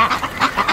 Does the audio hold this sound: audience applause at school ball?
no